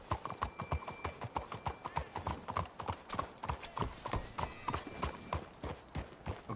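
Horse hooves clip-clop steadily in Red Dead Redemption 2, a brisk even rhythm of many close, clear strikes at a walking-to-trotting pace that continues throughout with no talk over it.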